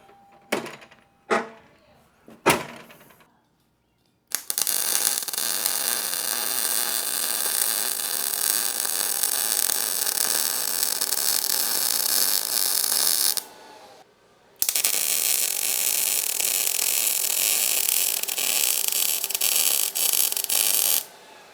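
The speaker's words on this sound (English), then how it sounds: "I'm just gonna go ahead and weld this, tack this on here." A welder tacks and welds a steel front bumper center hoop on a 4th gen Toyota 4Runner, giving a loud continuous crackling buzz in two long runs with a brief pause between them. Short clanks and taps come before the first run.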